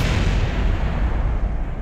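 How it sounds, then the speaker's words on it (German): A sustained, booming rumble of an explosion in the video game Kerbal Space Program, loud and dense throughout with no speech. "Warum explodiert da immer etwas?"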